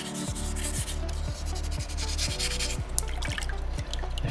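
Sandpaper is rubbed against a small soapstone Moai carving in close, quick repeated strokes with a gritty scratching rhythm, continuous and without voices.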